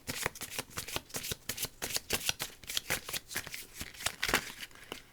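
Tarot cards being shuffled in a steady run of crisp, fluttering riffles and soft slaps, close and moderately loud, with no voices.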